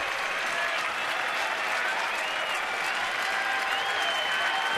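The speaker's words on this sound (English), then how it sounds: "Oriole fans applauding for the out." Baltimore Orioles fans at a 2013 baseball game applaud an out, a steady, unbroken wall of stadium clapping and crowd noise that sounds broad and somewhat distant, with no talk over it.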